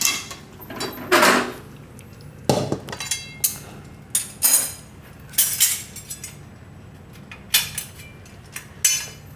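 Metal pan of Maggi noodles set down and lifted off a gas stove in a home kitchen, a series of sharp clanks and clinks of metal on metal and stove grate, spaced irregularly, close and fairly loud with no talking.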